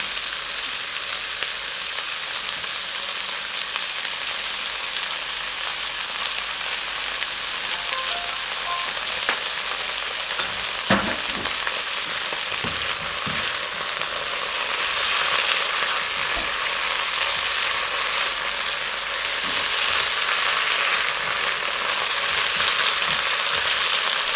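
Vegetables with shrimp stir-frying in a pan with oyster sauce, a loud, steady hiss and sizzle that runs continuously, with occasional clinks of stirring and no voices.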